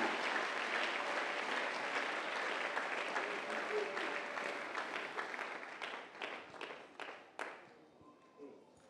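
A church congregation bursts into loud, dense applause that runs for several seconds, then thins into scattered separate claps before fading out.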